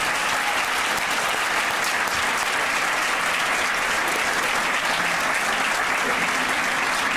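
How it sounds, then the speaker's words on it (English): An audience at a university ring ceremony bursts into sustained, loud applause, dense clapping from a large crowd filling the room without pause. "would y'all mind giving a round of applause to your friends and family that are here to support you?"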